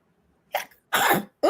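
Two or three quick, sharp sneezes in a row, close and fairly loud, separated by short silences.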